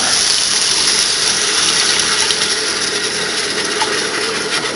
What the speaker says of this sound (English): And lastly, I'm going to add in some water.